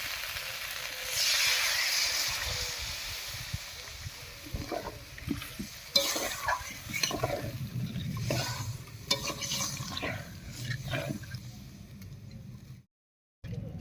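Cauliflower cooking in a pan with a splash of water added: a hissing burst, then a softer sizzle with repeated scraping and stirring strokes, close and moderate in level, cutting out briefly near the end.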